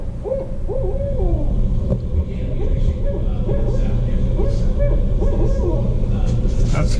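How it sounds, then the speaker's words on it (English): A barred owl hoots repeatedly in rhythmic calls over loud, steady low rumble during a morning walk at a nature center. "Barred owl."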